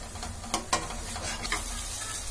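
Turmeric masala frying over a medium flame in a kadhai for village-style aloo gobhi, with a steady low sizzle and a few scraping stirs of a spoon against the pan, close and alone with no talk.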